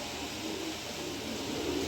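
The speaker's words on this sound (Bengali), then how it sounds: "দুইটাই আনার চোখের কবুতর" Pigeons coo softly under steady background noise, a low continuous murmur of cooing throughout with no speech.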